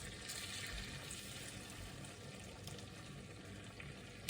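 Pork chops in a hot pan with about half a cup of warm water stirred in, a faint steady hiss and sizzle with light scraping, no talk.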